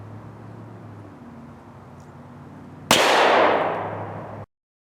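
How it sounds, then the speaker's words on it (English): A single loud, sharp gunshot from a .357 SIG Winchester White Box 125-grain full metal jacket round fired into aluminum, cracking suddenly after a quiet hum and ringing out briefly before cutting off. "next up 357 SIG Winchester White Box 125 grain full metal jackets"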